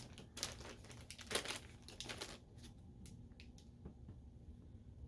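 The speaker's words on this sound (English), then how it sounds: "sorry for the crinkling, but it's the only way I can think to show you guys this color" Plastic packaging holding dyed BFL wool spinning fiber crinkles in bursts of rustling and crackling for the first couple of seconds, then eases off into a few quieter scattered crinkles, close and moderately soft.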